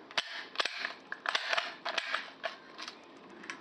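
Rifle cartridges pressed down from a stripper clip into a magazine, a run of sharp metallic clicks and snaps at close range, uneven in rhythm and heard alone without talking.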